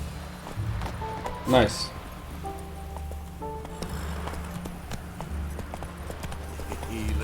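Roach the horse's hooves clip-clop steadily in The Witcher 3, a quick trotting rhythm running under a voice and game ambience throughout.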